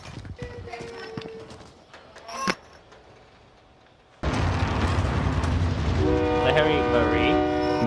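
In a Call of Duty Warzone match, a train's horn blares and the train rumbles past. Faint game noise comes first, then the loud, sustained horn tones and rolling rail noise cut in abruptly and fill the rest.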